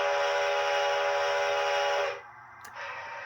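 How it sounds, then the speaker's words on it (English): Whistle from a sound-equipped model locomotive in a starter set: a steady, sustained toy steam whistle blows loud and unbroken for about two seconds, then cuts off abruptly, leaving a faint electronic hum. "Now, I do believe this whistle is honestly one of the least exciting that I have on any locomotive"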